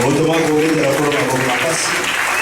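Congregation at a church service applauding together, a steady dense wash of clapping with harmonic voices or music sustained beneath it throughout.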